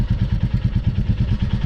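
A Royal Enfield Classic 350 motorcycle thumps out a loud, close, rapid single-cylinder beat from its exhaust while being ridden. The pulse is steady and rhythmic throughout, with no talking.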